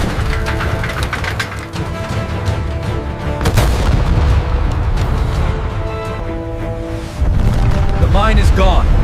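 A naval mine explodes at sea near a warship, heard as heavy booms and sharp blasts, one standing out midway, layered under dramatic music and a voice.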